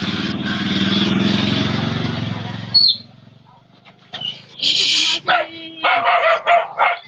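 A steady engine-like drone fades out, then a dog barks and yelps in several sharp bursts, fairly close.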